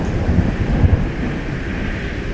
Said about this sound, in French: Un orage commença à gronder.